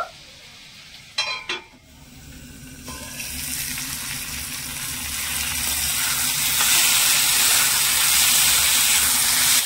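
Cauliflower sizzles in a hot pan after a few stirring clinks near the start, the frying hiss swelling steadily louder and filling the rest of the clip, with no talk.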